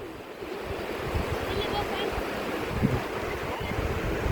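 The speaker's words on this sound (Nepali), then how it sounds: "यो पानीको लहर, कति सङ्लो पानी र राम्रो पानी छ।" Water of the Arankhola river in Nawalpur washes and laps in a steady, fairly loud rush with a slight rise and fall, carrying on without a break.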